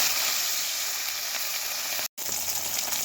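Katla fish frying in hot oil in a wok, a steady close crackling sizzle filling the whole stretch, broken by one brief silent gap near the end.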